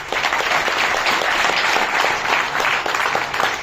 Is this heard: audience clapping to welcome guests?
yes